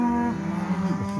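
A steer on a cattle drive to a farm lets out a loud, close moo that bends downward, and a second bellow overlaps it with no voices.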